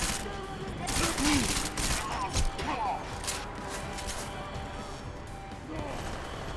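Rapid bursts of gunfire during a firefight in Deus Ex Mankind Divided crackle loudly and near, mixing with sharp impacts and raised voices.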